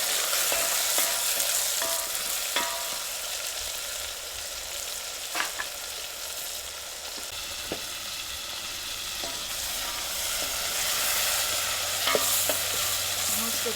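Whole green onions frying in oil, a constant soft sizzle with scattered light stirring knocks over nearly fourteen seconds, fairly quiet and close.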